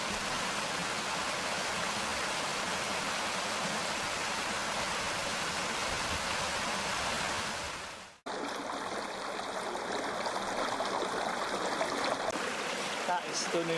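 Steady broadband rush of fell waterfalls and streams near Buttermere, loud and continuous, briefly cutting out before resuming with a slightly different, closer flow.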